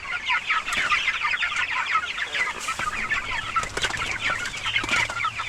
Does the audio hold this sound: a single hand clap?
no